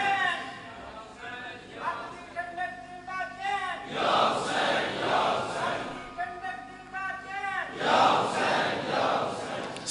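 A crowd at a religious gathering commemorating Imam Hussain and Karbala chants slogans in loud, rising waves of many voices, with swelling bursts of shouting that recur every few seconds.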